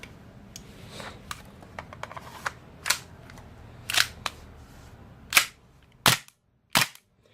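A vintage airsoft pistol fires several snappy pops that grow louder and sharper toward the end, following softer clicks and handling noises, with no talk.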